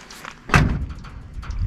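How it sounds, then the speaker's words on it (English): A single solid thud as the door of a 1991 Ford F250 pickup truck with a 300 six and 5-speed manual is shut, close by and short, followed by faint background noise. "Door shut nicely."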